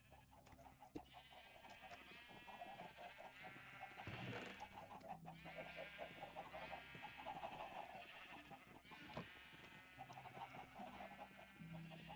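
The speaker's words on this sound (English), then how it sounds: "Just disregard all of the sheep sounds." Sheep in the Minecraft modpack Divine Journey 2 bleat over and over, a dense overlapping chorus of wavering baas mixed with clucking fowl, steady and fairly loud throughout.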